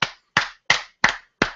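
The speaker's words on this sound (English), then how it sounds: "round of applause" Round of applause for a talk-show guest, heard as five slow, evenly spaced, crisp claps close by, each ringing out briefly before the next, with no voices.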